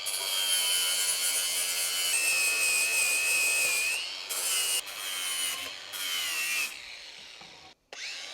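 Metal stock is cut into small strips for welding window frames, a steady high-pitched grinding whine that shifts pitch as the cut loads and eases, pausing briefly near the end.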